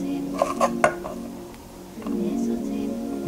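A knife slices through fresh ginger on a cutting board in a home kitchen, giving three crisp close chops early on, followed by softer tapping and handling noise with faint background hum.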